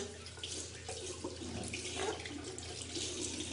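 Tap water runs in a steady, faint splash while face cream is rinsed off at a sink, a soft continuous wash close by.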